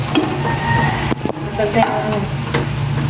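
Food is stirred in a frying pan over a steady sizzle and low kitchen hum, with scraping utensil strokes and a couple of brief louder knocks; faint voices are present in the background.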